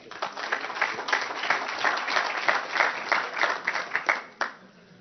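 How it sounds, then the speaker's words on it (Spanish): A conference audience at the XX CIDEU congress on smart cities gives a burst of dense, close applause welcoming a speaker, which swells, holds, and then tapers off near the end. "les damos un fuerte aplauso y le damos la bienvenida"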